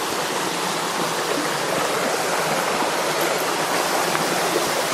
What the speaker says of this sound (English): A waterfall down there.